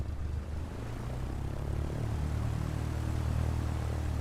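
A Cessna 172 propeller engine in Microsoft Flight Simulator drones steadily as power is added, a low continuous hum with a slight rise in pitch partway through and no talking.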